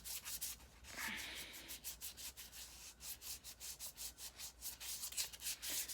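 Light rubbing on a gem-like rock, crafted into a Star Wars style kyber crystal, gives a steady run of soft, close scratchy strokes in a quick repeating rhythm, with no voices.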